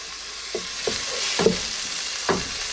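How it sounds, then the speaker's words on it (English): Onions and garlic for binagoong pork sizzle in a pan, a steady frying hiss broken by a few soft stirring knocks, close and moderately loud with no speech. "first we'll put in our onions and our garlic"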